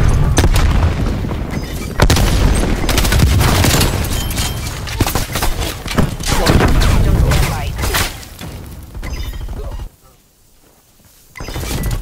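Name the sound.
frag grenade explosion in a video game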